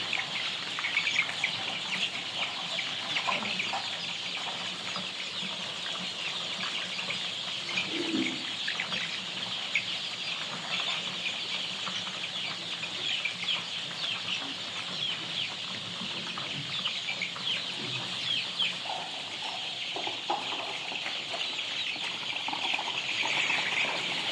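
Dominant breed chickens cluck and murmur amid a busy, constant background of birds, with occasional wing flaps, moderately distant.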